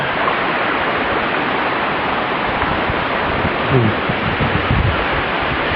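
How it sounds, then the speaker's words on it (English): Laurel Creek Falls heard from the top of the waterfall on a forest trail, a constant loud rushing roar of falling water with a voice briefly speaking beneath it. "Just over this way, down that trail there, is Laurel Creek Falls, and we're actually at the top of it."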